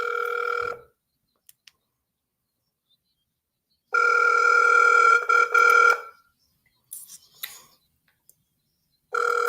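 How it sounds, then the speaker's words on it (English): A telephone rings for a live call during basketball commentary on a 76ers vs Magic game. Two long, loud ring bursts are separated by silence, with faint clicks between them and the start of another ring at the end. "see if we can get him to answer the phone"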